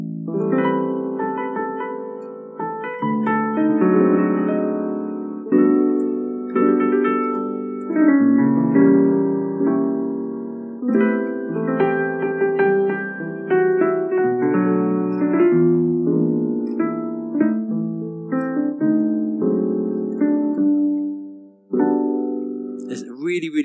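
A jazz standard, its A section played on a single melodic instrument, likely piano, with chords under a flowing melody line, steady and fairly loud throughout with no talking.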